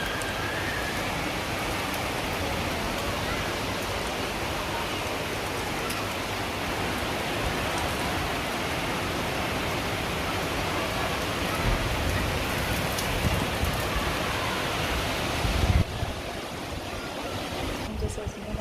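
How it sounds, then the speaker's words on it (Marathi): Heavy rain pours steadily and loudly, a dense unbroken hiss of drops on surfaces, with muffled talking faintly underneath. "बापरे किती पाऊस आहे काय का केवढा पाऊस आहे बघा"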